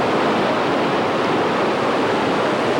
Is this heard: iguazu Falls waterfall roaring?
yes